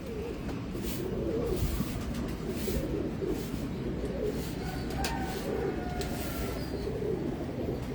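Long-bodied red-eyed pigeons coo steadily in a home loft, a repeated soft rolling call over a continuous low murmur of birds, with faint distant rumbling behind.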